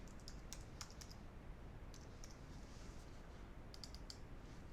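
Keys clatter on a computer keyboard in short bursts of quick taps separated by brief pauses, faint and close over a steady background hiss.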